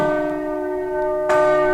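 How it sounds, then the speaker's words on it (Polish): Church bells ring with sustained, resonant tones that hang in the air, and a fresh loud strike near the end renews the bright metallic chime. "Słuchajcie, słuchajcie, jak płaczą dzwony!"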